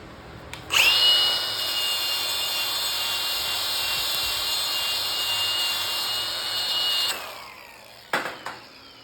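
A power tool, likely a grinder or wire wheel, cleans slag off a flux-core weld bead, spinning up with a loud, high whine for about six seconds before winding down, then a brief clatter.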